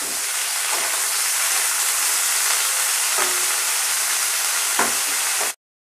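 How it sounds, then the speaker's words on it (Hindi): Spices frying in oil in a pan for a broccoli sabzi, giving a steady close sizzle that runs unbroken for about five seconds and then cuts off abruptly, with a few faint stirring knocks in between. "फिर मसाले को फ्राई करेंगे।"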